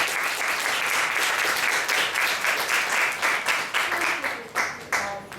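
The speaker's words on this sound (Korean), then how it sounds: "한번 강사님과 포럼하신 청년분께 박수 한번 쳐주세요." A crowd at a church youth retreat claps for the lecturer and the young forum participants, a full round of applause that thins into separate, rhythmic claps toward the end.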